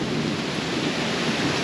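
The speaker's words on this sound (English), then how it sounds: "Yep, the sound of thunder." Thunder rumbles through a heavy summer downpour, a dense, loud, continuous roar of rain pounding on surfaces close by, with no voices.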